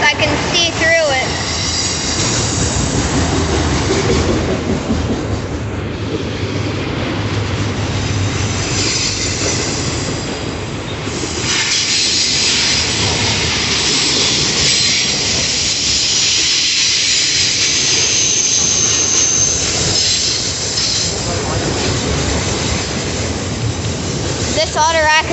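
A freight train of loaded auto rack cars rolls past close by, its loud, continuous rumble of wheels full of clatter and high metallic squeals, with a voice talking underneath.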